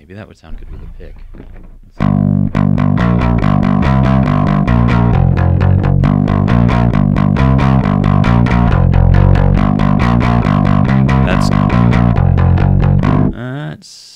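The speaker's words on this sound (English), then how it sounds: "the distortion is really grating if there's not too much high coming from the bass" After a quiet moment, a bass guitar driven through a Hardwire SC-1 valve distortion pedal bursts into a loud, fuzzy riff of steady, rapid notes that roars on for about eleven seconds before cutting off.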